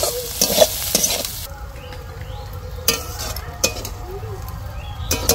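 Bitter gourd stir-fries uncovered in a pan, giving a continuous close sizzle broken by the scrape and clink of a metal spatula against the pan every second or so.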